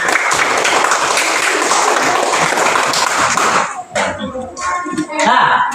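A classroom of students applauds classmates who answered questions, with dense clapping that stays loud and steady for about four seconds before breaking into scattered claps and brief chatter.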